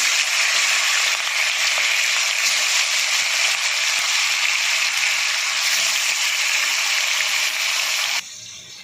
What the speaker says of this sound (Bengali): তো মাছগুলো আমার তেল গরম হয়ে গেছে, মাছগুলো আমি ভেজে নেব।